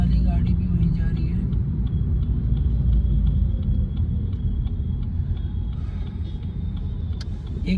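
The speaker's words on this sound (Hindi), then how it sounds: "अब हम हाईवे से एग्ज़िट लेने वाले हैं।" Car driving on a highway in the late evening, heard from inside the cabin: a steady low engine and road rumble throughout, with faint regular ticking above it.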